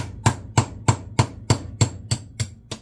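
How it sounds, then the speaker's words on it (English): A small hammer taps a pin out of a D.A.M Quick 550 fishing reel in nine sharp, evenly spaced metallic strikes, close and loud, with no talking. "We're going to start out with a small hammer and see if this will do it."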